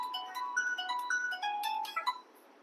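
A mobile phone rings with a bright melodic electronic ringtone, a quick sequence of chiming notes played at moderate volume for about two seconds before it stops.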